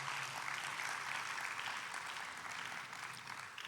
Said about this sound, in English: Another round of applause, please, for Nora.